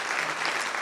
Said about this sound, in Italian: Bravo, un applauso.